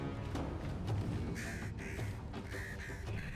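Crows in Baldur's Gate 3 give several harsh caws in quick succession after a low ambient stretch, close and fairly loud over a muted game soundscape.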